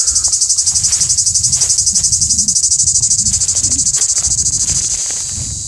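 A grey cicada sings up close with a loud, continuous, rapidly pulsing buzz that runs through the whole stretch, fading slightly at the very end, over a faint low outdoor rumble.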